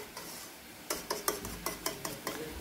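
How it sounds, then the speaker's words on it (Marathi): Egg bhurji mixture being stirred in a pan after salt is added: a run of sharp, evenly spaced scraping and clinking strokes of a utensil against the pan, close and moderately loud, with a soft sizzle underneath and no voices. "मीठ टाकल्यानंतर हे छान मिक्स करून घ्यायचं"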